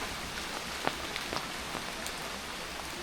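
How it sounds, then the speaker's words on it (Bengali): Heavy rain falls steadily on a village during a windy storm, a dense even hiss of drops on surfaces with a few sharper patters standing out, no voices. "দেখো কেমন বৃষ্টি, বাতাস ছেড়ে দিছে বাবা, প্রচুর বাতাস ছেড়ে দিছে"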